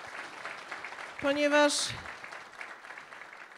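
Applause from an audience at a Polish government event honours the mayor of Stalowa Wola, a dense hiss of clapping running beneath someone speaking, with a brief louder swell midway.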